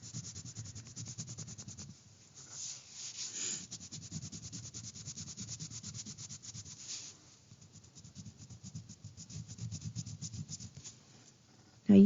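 A crayon rubs hard across paper in repeated scratchy strokes, with short pauses between bursts of coloring, close and fairly quiet.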